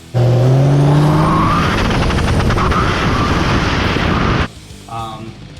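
A Cummins diesel second-gen drag racing truck with a VP44 pump roars loudly and continuously, its pitch sweeping upward as it accelerates under load, then drops off suddenly to a quieter idle.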